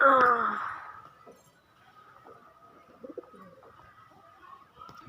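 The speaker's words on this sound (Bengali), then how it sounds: "দাদা ভাইয়ের একটা শখের পায়রা দেখানো হচ্ছে" A pet pigeon's soft, low cooing opens close by, then fades into quiet background with faint scattered noises.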